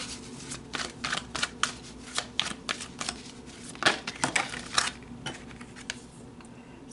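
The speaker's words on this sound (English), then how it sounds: "let's get the rest of the cards out" Tarot cards being shuffled and laid out on a table, a close, quiet series of soft snaps and slaps in an uneven rhythm with no talking.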